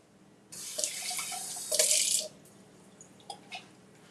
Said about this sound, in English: And then I'll just do a little splash of water